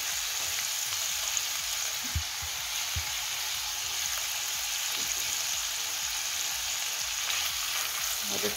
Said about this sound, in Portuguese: Vou deixar fritar.